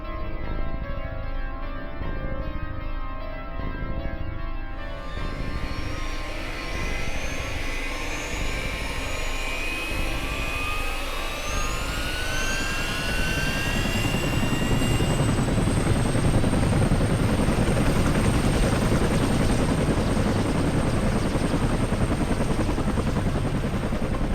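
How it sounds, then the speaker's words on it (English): A helicopter engine starts up in the horror game Flesh Made Fear, a rising turbine whine climbing in pitch as the rotor chop builds into a loud, steady roar. "Fire up the chopper."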